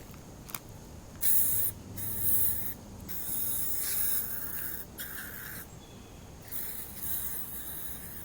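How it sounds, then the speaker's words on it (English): Bug spray hissing from an aerosol can outdoors at a shooting range, several short bursts of spray separated by brief pauses, fairly faint against a breezy background. "Throw on some bug spray."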